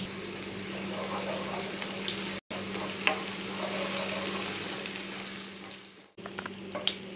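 Garlic cloves and green chilies frying in hot oil until golden, a steady close sizzle with light stirring clicks throughout.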